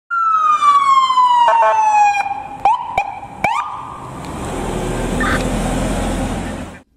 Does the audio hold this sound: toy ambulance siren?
yes